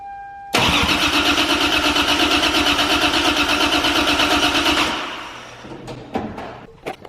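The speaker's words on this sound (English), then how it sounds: "crank the car a couple times here and just hope everything works and hopefully I have good compression" A Toyota 2JZ engine cranks steadily on the starter during a compression test, a loud close rhythmic whirring chug lasting about four seconds before winding down, followed by a few scattered clicks and clunks.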